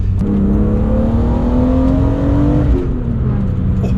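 A BMW Z3 M Coupe's straight-six engine revs up smoothly, its pitch rising steadily for a few seconds before easing off, loud and close with no talking.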